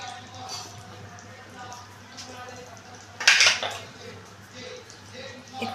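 Potato and pointed gourd curry stirred in a pan, with soft scraping and one sharper clink of the utensil against the pan, heard beneath a person talking.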